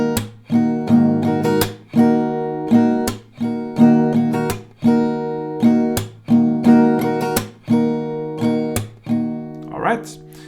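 Acoustic guitar strums the pattern: bright rhythmic chord strokes with steady accented pulses, loud and close, repeating for several rounds before a brief voice near the end.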